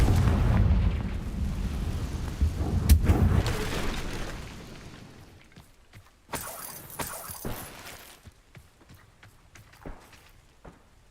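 Fire-spell explosions from the Hogwarts Legacy video game boom heavily for several seconds, with rumbling and crackling debris. The blasts fade into scattered sharp bursts and pops that fall away toward quiet.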